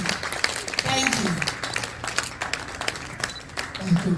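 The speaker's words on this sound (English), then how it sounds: "Please continue to clap for her." An audience applauds a speaker at the FAN 2025 annual general meeting on women in architecture, with steady clapping throughout and a voice faintly heard over it.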